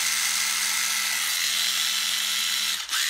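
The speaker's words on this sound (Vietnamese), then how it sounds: "khoan Hitachi 12V" A Hitachi 12V cordless drill with a 13 mm chuck runs steadily at full speed, giving a bright, constant whine with a low motor hum beneath it and a brief dip near the end.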